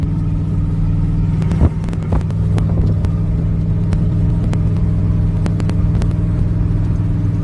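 A vehicle cruises along Highway 78, its engine a steady low rumble with tire and road noise, broken by a few sharp knocks and clicks from inside the cabin.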